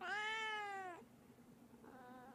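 A cat meows twice: a long, loud, drawn-out meow, then after a pause a shorter, softer one, with no talking over it.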